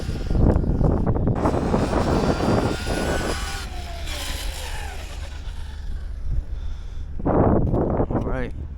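Traxxas Maxx V2 RC car at full throttle on a speed run, a loud rising motor whine that sweeps up and fades as it passes, with a person talking over it.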